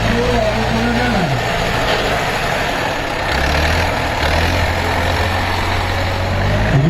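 A tractor engine idles at a tractor show, a steady low rumbling drone with a slight shift in pitch midway, close and loud, while people talk over it.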